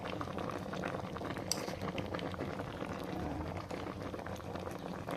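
Coconut milk simmers with vegetables and fish in a pot, giving a steady close bubbling and popping with no talk over it.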